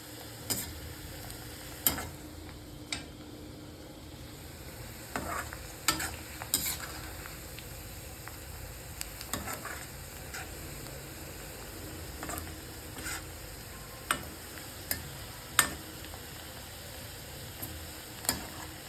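Chicken frying in oil gives a low background sizzle, broken by occasional sharp clinks and scrapes of stirring.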